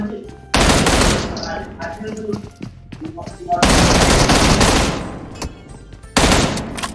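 Bursts of rapid automatic gunfire from a shooter video game, three loud sustained volleys separated by quieter stretches with scattered single shots and game effects, with a voice talking faintly at times.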